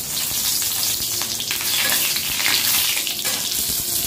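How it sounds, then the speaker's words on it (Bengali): Dry red chilies and cumin seeds sizzle in hot oil in a wok, a steady, loud crackling hiss with sharp pops throughout, close and continuous with no talking. "এই যে কড়াতে তেল দিয়ে দিয়েছি, এর মধ্যে দেবো হচ্ছে শুকনো লঙ্কা, জিরে ফোড়ন, জিরে, শুকনো লঙ্কা।"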